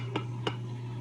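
A spoon stirs mint sauce in a small dish during plating, giving two soft, quick clinks against the side, close and quiet over a steady low hum.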